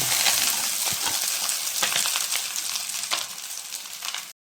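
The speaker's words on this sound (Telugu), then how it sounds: "బీనీస్ క్యారెట్ వేసుకున్నాం ఇవన్నీ వేగిపోయిన తర్వాత ముందుగా మనం పక్కన పెట్టుకున్న సేమే తీసి వేసుకున్నాం" Beans, carrot and vermicelli fry in a pan, giving a steady, close crackling sizzle with light scraping and stirring clinks, even and continuous for about four seconds before stopping abruptly.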